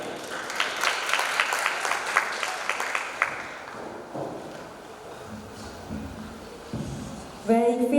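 Audience applause at the Duta Bahasa Bangka Belitung 2026 finals, loud clapping for the first three seconds that then thins and dies away, with a voice starting to speak over the quieter tail.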